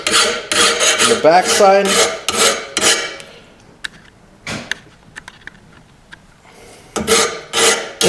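A hand file rasps against a steel lawn mower blade in rhythmic strokes, loud and close at first, then pausing with a few faint taps before the filing resumes; someone speaks briefly near the start.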